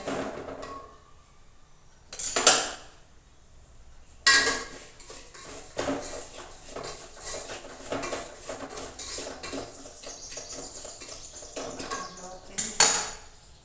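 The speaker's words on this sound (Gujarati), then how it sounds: "આપણે તેને શેકી દઈશું સોજીને" Semolina roasts in ghee in a pan while a spoon scrapes and clinks against the metal in irregular bursts, with a few sharper clatters over a faint, intermittent background sizzle.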